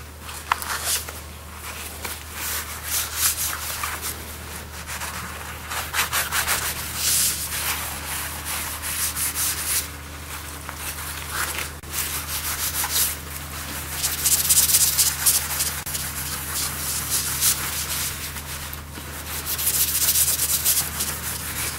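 Tarlatan fabric is rubbed across an inked printmaking plate, producing a continuous close scratchy swishing in repeated strokes that swell and fade, with no speech over it.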